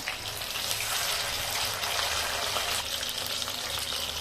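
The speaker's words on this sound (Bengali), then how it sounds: "এবার আরেকটু তেলটা ভালো করে সুন্দর করে ভেজে নিচ্ছি" Chicken lollipops frying in hot oil, a soft continuous bubbling sizzle at moderate level, steady and unbroken with no talking.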